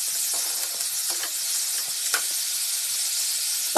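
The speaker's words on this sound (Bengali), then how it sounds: "দিয়ে দিয়েছে ভালো করে ভাজছে ভেজে নেবে একটু" Half-boiled carrots and onions fry in a pan, giving an even, close sizzling hiss with a few faint stirring ticks and a soft knock at the very end.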